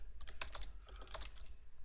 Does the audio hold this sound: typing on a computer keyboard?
yes